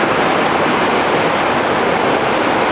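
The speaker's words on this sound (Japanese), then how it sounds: "ちょっと波が今日高いのか、湾以外は結構しぶきを上げてますね。" High sea waves crash and spray against large concrete tetrapods beside a ferry harbour, a loud, dense, continuous roar of surf and splashing with no voices.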